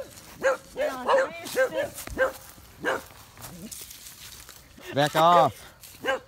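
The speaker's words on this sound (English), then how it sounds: "We are encountering a wild pack of dogs." A wild pack of dogs barks and yips around people encountering them outdoors, the barks coming in short bursts mixed with loud shouting and talk.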